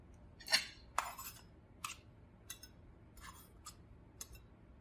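Spatula scraping and tapping in a frying pan while breaking up soyrizo into crumbles, a handful of faint irregular metallic clinks against a quiet background.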